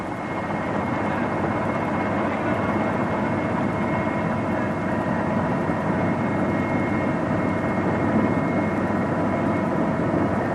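A helicopter flies overhead in a rural Vietnamese setting near rice paddies and excavation sites, its steady rotor and engine drone holding loud and constant throughout with no voices.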